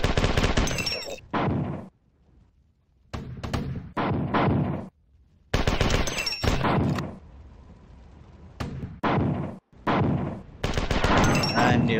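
Video game gunfire comes in several loud, dense bursts of automatic shots separated by short quiet gaps, with voices talking in the lulls.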